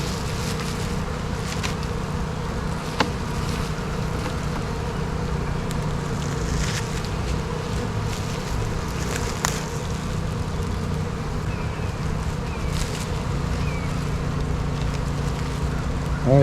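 Honey bees buzz continuously in an open hive during an inspection, a dense, steady swarm hum with occasional closer individual bees passing by.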